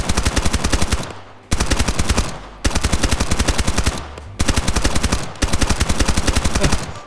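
Rapid submachine gun bursts from the top-down shooter Escape From Duckov, several long sustained strings of fast shots separated by brief pauses, loud and close with no talk.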